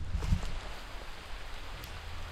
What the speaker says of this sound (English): And just like that, it started to rain.